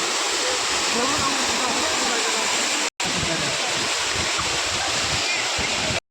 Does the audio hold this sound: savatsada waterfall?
yes